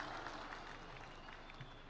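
Applause from a large crowd at a Mashujaa Day national celebration in Ithokwe Stadium, Kitui, heard as a distant, faint, steady patter of many hands clapping across the open stadium.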